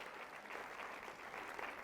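A church congregation applauds in a steady, dense wash of clapping that holds at an even level for the whole stretch, with no voices rising above it.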